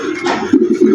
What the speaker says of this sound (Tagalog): May dumating tayong ibon.